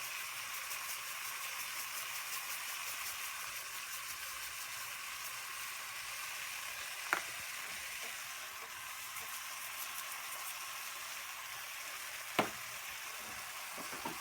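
Chicken afritada ingredients saute in a pan with a steady, even sizzle that holds throughout, broken only by two faint clicks of utensils.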